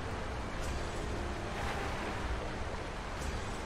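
A waterfall in Sekiro roars as a steady, broad rush of falling water, constant and fairly loud throughout with no pauses.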